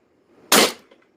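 A single sharp pop of a First Strike FSC paintball pistol fitted with a MILSIG HeatCore O-ring, loud and close with a quick decay, isolated in near silence.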